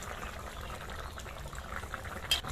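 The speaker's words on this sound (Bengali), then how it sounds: "তরকারিটা ফুটে গেছে। এবার এর মধ্যে আমি মাছগুলো দিয়ে দেবো" A thin fish curry with potato and pumpkin bubbling in a pot, a steady soft simmering hiss with faint gurgles, quiet and close with no voices.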